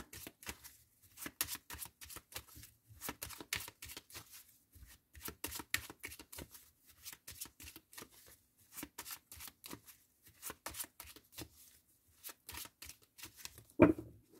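Tarot cards are shuffled and laid out for a nine-card spread, giving quiet, close papery riffles, slaps and flicks in irregular bursts, with one louder knock near the end.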